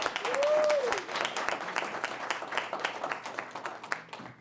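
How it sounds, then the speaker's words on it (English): An audience at a National Federation of the Blind gathering gives a warm round of applause, dense clapping that swells early and then tapers, with a brief tone and a voice near the start. "just give her a little round of applause for that"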